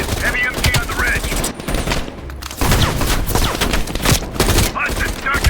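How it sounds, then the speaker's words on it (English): Heavy machine gun fire in the Call of Duty Black Ops Cold War campaign, loud sustained bursts of automatic fire with a short lull midway, dense and close amid battle noise. "Heavy MG on the ridge."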